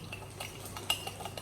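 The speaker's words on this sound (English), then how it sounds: "Mix up everything together." Ingredients get mixed together in a cup, with quick light clinks and taps of a metal spoon against its sides, soft and close with a short sharper knock partway through.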